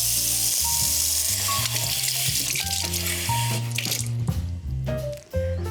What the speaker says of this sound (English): I'm just going to get 1/4 cup of ice cold water